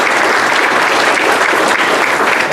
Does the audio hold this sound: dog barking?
no